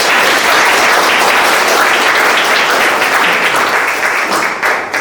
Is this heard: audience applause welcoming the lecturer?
yes